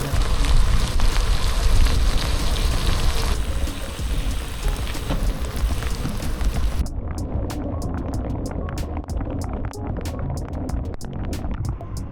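Heavy storm rain during a bike ride on an open road, a dense steady wash of rain with gusty broadband noise throughout and sharp drops or clicks striking close by in the later part.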